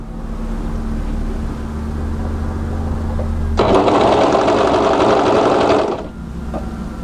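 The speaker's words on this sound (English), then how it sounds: "and overlock that on." An overlocker sews the matched raw edges of a tee, producing a loud, close, steady motor whir with rapid stitching that starts abruptly midway and stops about two seconds later, over constant room hum.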